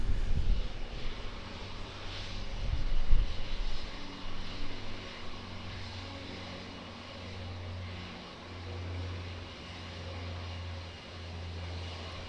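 ATR turboprop from Nelson departing Auckland Airport, a moderate propeller drone with a low steady hum, louder early and then settling to a fainter continuous tone, no talk.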